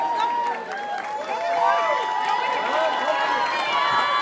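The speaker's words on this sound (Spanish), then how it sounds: "Un fuerte aplauso." Guests at a quinceañera party clap and cheer, with a lively crowd applauding steadily under busy voices and bright tonal sounds.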